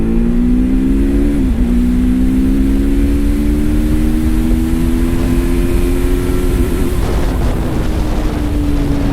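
A 2024 TVS Apache RTR 310 motorcycle pulls hard in fourth gear, its engine note climbing steadily under heavy wind rush. The note dips briefly and shifts pitch later on, loud and close throughout.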